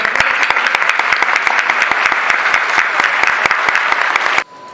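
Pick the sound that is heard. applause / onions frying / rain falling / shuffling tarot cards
applause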